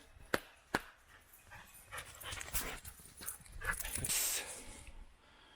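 Dogs pant and move about outdoors on open rural land, with faint panting, paws scuffing and rustling over ground, a couple of sharp knocks early on, and a soft distant whine.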